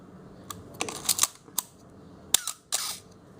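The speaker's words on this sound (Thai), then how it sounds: "ม่านชัตเตอร์ก็ ทำงานตาม สปีดที่ตั้งไว้นะครับ" A Canon AE-1 Program film camera fires its shutter several times, close and crisp, each release a sharp mechanical click with a short whir, spaced irregularly with quiet gaps between.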